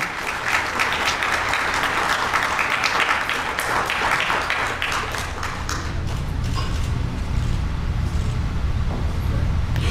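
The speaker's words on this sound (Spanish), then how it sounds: "Aplausos para el doctor Huancahuari." An audience at a formal law lecture and diploma ceremony claps loudly and steadily, then the applause thins and fades while a low rumble of room or traffic noise underneath grows more noticeable.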